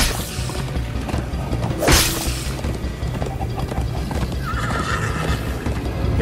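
Horse in the Minecraft Story Mode video game galloping with a fast clip-clop of hooves, a sharp whooshing neigh rising midway, all over a busy game soundtrack.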